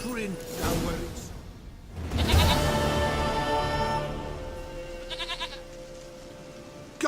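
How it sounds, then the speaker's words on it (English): A goat in The Witcher 3 bleats loudly and wavers near the start, then more bleats and game sounds follow, with a voice speaking over part of it. "Goat of mine, dearest,"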